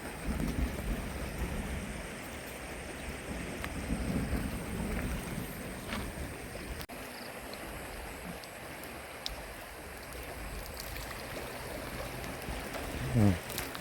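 Rain falls steadily outdoors at a flooded fishing spot, a dense close hiss of drops running throughout with a brief sharp crack near the end, while someone talks over it.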